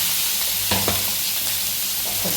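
Finely chopped ingredients with turmeric frying in a pan for a raw mango thecha, a constant bright sizzle with a couple of scraping stirs near the middle, close and alone.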